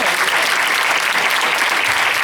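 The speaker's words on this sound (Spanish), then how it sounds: "Bueno, pues un aplauso, ¿no?" Dense, steady applause from an audience at the close of a book talk, loud and continuous with no gaps.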